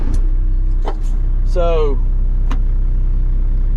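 An off-road truck's engine runs at a steady, close, loud idle from start to finish, with someone talking briefly over it.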